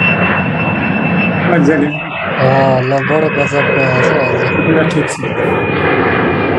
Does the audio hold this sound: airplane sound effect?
yes